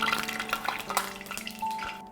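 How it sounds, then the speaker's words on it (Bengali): Breaded eggplant slices topped with shrimp are laid into hot oil, giving a close, faint sizzle with small wet crackles and spatters, then a brief steadier hiss near the end. "আমি এই যে গরম তেলের মধ্যে বসিয়ে দেব"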